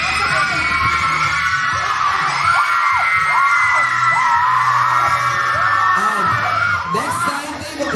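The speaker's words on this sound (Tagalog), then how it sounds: "Ang pinakamalakas na hiyawan, isa-isang sisigaw ang bawat table." A table of guests at a year-end party shouts and cheers at full volume, a dense continuous roar of yelling voices over thumping background music, with a brief dip near the end.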